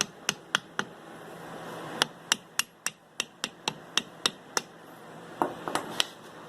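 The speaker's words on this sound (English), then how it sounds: "So when I tap it with the hammer, it's going to bend where I want." A hammer taps metal in a series of sharp, ringing strikes, some evenly spaced and some quicker, close by with no talking, bending a transmission mount part for a 1976 Chevrolet Vega.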